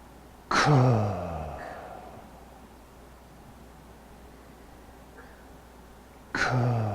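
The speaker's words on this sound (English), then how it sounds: "take a deep breath" Deep breaths during a chi gung exercise, with two loud close inhalations or exhalations about six seconds apart and quiet in between.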